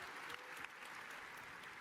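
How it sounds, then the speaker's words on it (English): Crowd applause at the D23 Level Up! 2017 Star Wars Battlefront 2 panel, a faint, distant wash of clapping and crowd noise that stays steady and muffled throughout, with a few slightly louder claps standing out. "I'll give it the applause"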